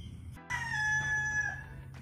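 A rooster crows once nearby on a farm garden plot, a long drawn-out call rising after a brief cluck, clear and alone.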